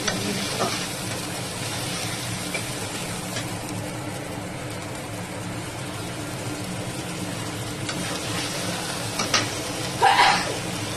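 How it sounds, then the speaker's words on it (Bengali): Spice paste for a katla fish curry sautés with a splash of water, a dense continuous sizzle and hiss at close range, steady throughout with a brief louder scrape near the end. "এবার মশলাটাকে ভালো করে কষিয়ে নেব"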